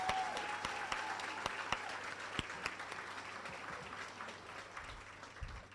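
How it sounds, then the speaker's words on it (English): An audience at a school district superintendent's State of the District address claps in a soft, somewhat distant round of applause with scattered sharp claps, fading gently over several seconds. "Can we have another round of applause for Alex Suarez?"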